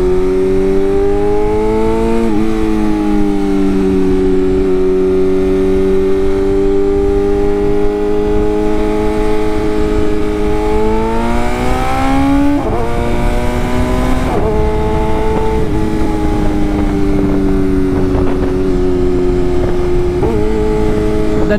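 A sport motorcycle with an aftermarket exhaust revs and downshifts, its loud close engine note rising and dropping in pitch through several gear changes, steady and continuous with no talk.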